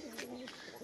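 Pigeon cooing, a soft low warbling call from a male tumbler pigeon, faint and brief, a single short phrase.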